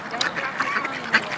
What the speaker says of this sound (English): It's just another evening at the park feeding some ducks.